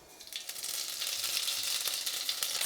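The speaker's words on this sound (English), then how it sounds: "once it's hot, I'm going to add a teaspoon of cumin seeds" Cumin seeds hit hot rapeseed oil in a pan and sizzle loudly, the crackle building quickly and holding at a bright, even hiss.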